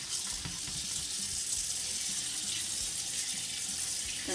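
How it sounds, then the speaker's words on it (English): Water from a kitchen tap runs steadily over dolmades being rinsed after coming out of their brine, a continuous hissing splash with no talk. "So let's go ahead and rinse these."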